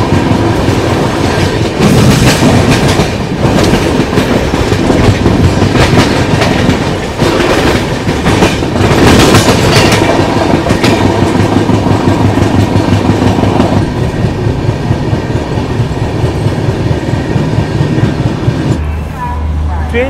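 The Jammu Tawi Express runs at speed, heard from inside a coach as a loud, continuous rumble with rhythmic clickety-clack of wheels over rail joints, lasting throughout and shifting slightly near the end.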